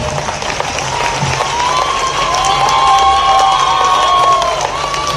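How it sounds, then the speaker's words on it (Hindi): A crowd applauds and cheers steadily at a mass wedding ceremony in Indore, with a dense wash of clapping and a few high shouts and whistles rising over it throughout. "अभिनंदन का आप जोर से ताली बजाओ"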